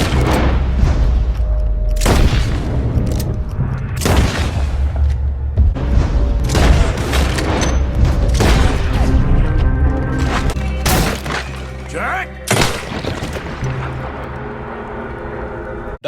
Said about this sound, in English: a bloody shootout taking place with sounds of gunfire and epic shootout music